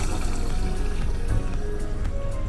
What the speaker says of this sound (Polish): W ten sposób tankujemy wodę, żeby było się w czym myć.